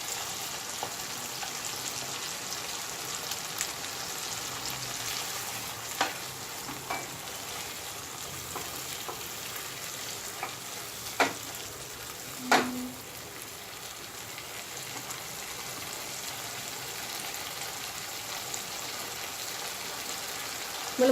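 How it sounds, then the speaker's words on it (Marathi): An onion and coconut paste fries in a pot of mutton curry over high heat, giving a faint, steady sizzle with a few scattered pops and a brief clatter throughout. "हे जे कांदा खोबरं वाटण आहे ते घालून घेऊ आपण."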